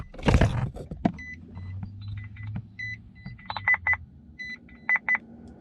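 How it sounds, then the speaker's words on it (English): A car's low tire pressure warning chime beeps repeatedly in short bursts, some paired and some in groups of three, after an opening thump, with no talking. "Got all kinds of beeping going on."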